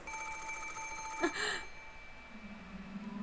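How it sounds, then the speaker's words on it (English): A telephone ringing in the visual novel game Umineko, a bright electronic ring cutting off abruptly, followed by a soft low tone. "The sudden ring of the phone made me jump so hard I thought my heart would explode."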